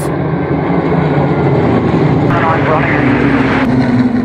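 Spitfire aircraft engines roar continuously at the Flying Legends 2011 airshow, a loud, broad rumble with indistinct voices mixed in.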